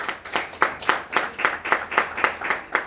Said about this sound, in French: On applaudit une fois de plus.